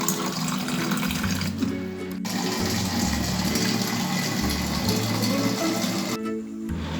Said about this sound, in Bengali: এখন আমি অ্যাকোয়াগার্ডে জলগুলো ভরে নিচ্ছি।